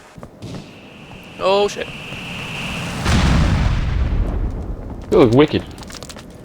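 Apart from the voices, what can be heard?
gunfire and explosions in video game Helicopter Warfare 2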